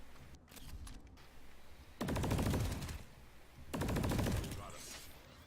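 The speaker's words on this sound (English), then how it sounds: "I'm gonna move down, and I'm gonna start shooting" Two rapid bursts of automatic carbine fire from a VX67 in a video game, loud rattling volleys separated by quieter background sound.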